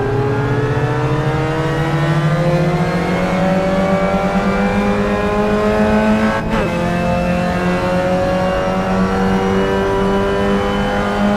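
A Clio Cup race car engine in a racing game, a loud continuous drone that climbs steadily in pitch under acceleration, with a brief sharp click midway and no talking.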